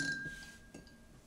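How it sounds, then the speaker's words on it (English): An egg dropped into a glass of water gives a faint clink of glass early on, with a second soft knock a moment later, quiet and close with no talk. "And I'm going to put the egg in it, same egg."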